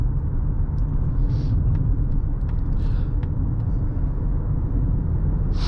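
A steady low rumble of road noise fills the cabin of a 2023 Mazda CX-50 Meridian Edition cruising on smooth paved road, constant and moderately loud with a few faint clicks above it.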